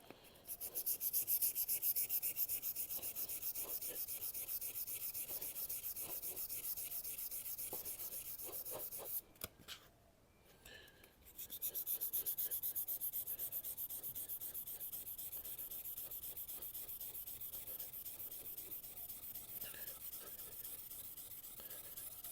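A rusty Japanese knife blade is sanded in steady rubbing strokes, close and even, with a brief pause near the middle before the gritty scraping resumes.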